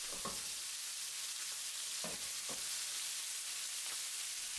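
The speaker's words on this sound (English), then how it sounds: "Put half of the skewers in a pan to maintain the heat. Let them grill for 1 minute." Lemongrass beef skewers grill in a pan of hot vegetable oil, giving a steady, soft sizzle with a few faint pops and clicks scattered through it. No one speaks.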